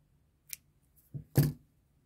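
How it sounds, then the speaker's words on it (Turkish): Scissors snip crochet yarn, a light metallic rustle followed by two quick close cuts, the last one sharpest, in an otherwise quiet room. "Bir zincir çekip ipimi keseceğim."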